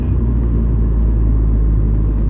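A Hyundai Genesis Coupe 2.0T with a Solo Performance catback exhaust idles, a steady low engine rumble with a soft burbling exhaust note, close and continuous, without pauses.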